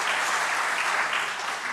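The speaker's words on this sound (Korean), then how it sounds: "우리 박수로 환영해 주시기를 바랍니다." A church congregation claps in welcome for visiting guests, a dense, steady burst of applause filling the sanctuary without talk.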